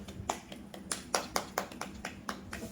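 Hands clap through a quick, fairly steady run of about a dozen soft, faint claps, with no one speaking.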